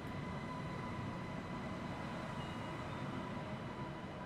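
An ETA train passes through a station between Trier and Cologne, a continuous low rumble with faint tonal hum, fairly distant and steady throughout.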